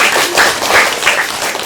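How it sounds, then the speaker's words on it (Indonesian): Short, close round of clapping from students in a classroom, several hands beating in quick, slightly uneven rhythm for under two seconds. "Tepuk tangan dulu buat kita semua."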